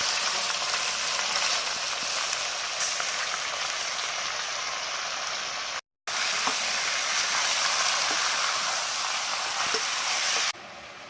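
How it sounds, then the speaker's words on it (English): Goat's neck mutton sautes in a pan over a medium-low flame, a steady dense sizzle that runs on evenly with a brief cut partway, without any talk. "So I'm adding about a kilo here, and I'm going to saute this for about 20 minutes"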